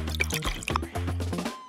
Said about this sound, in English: 1 ounce of cranberry juice.